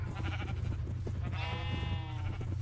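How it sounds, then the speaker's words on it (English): Minecraft sheep bleat in a video game, a drawn-out bleat standing out over a steady low background hum and soft game sounds. "Get out of my way, sheep."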